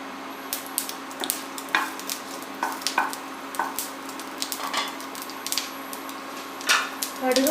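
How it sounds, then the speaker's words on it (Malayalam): Mustard seeds pop and splutter in a tablespoon of hot oil in a pan, sharp irregular crackles and snaps over a soft sizzling hiss, close and moderately loud, with no talk. "കടുക് പൊട്ടി തുടങ്ങുമ്പോൾ"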